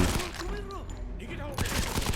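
Gunfire from the video game Modern Combat 5 comes as a burst of rapid shots near the end, preceded by tonal game sounds and a voice speaking.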